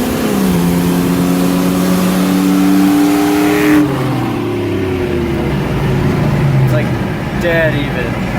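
A car accelerating hard, the engine revving up and shifting into higher gears with rising and falling pitch sweeps, loud and close, while people talk over it.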